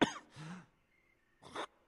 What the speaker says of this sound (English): I keep coughing loads randomly.